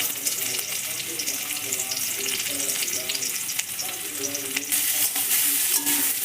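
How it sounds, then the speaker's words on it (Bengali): Boiled amla (Indian gooseberry) pieces fry in a little white oil, a steady close sizzle with stirring scrapes and faint voice-like tones underneath, swelling louder near the end. "সিদ্ধ করা ওই যে আমলকিগুলো আছে ওগুলো ভালোভাবে ভেজে নেব"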